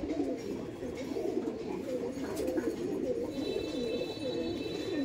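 Giribaj pigeons cooing at a crowded pigeon market, a steady low burbling coo that runs continuously through the clip with soft background chatter and faint market noise.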